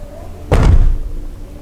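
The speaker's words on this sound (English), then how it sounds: "don't you just love how German the door sounds whenever you close it? Listen to this." A 2023 BMW M2 coupe door swings shut with a single solid, deep slam close by, followed by a brief low resonance as it settles into quiet.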